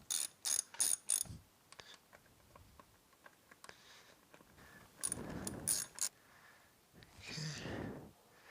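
Screws being undone on a motorcycle air filter housing cover during a choke repair, a series of close, sharp ratcheting clicks and mechanical rattles in short bursts with pauses between them.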